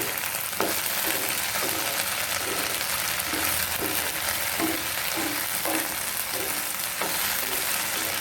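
Okra and spring onions fry in a pan while being stirred: a steady, loud sizzle with regular scraping strokes of the spoon repeating about every second.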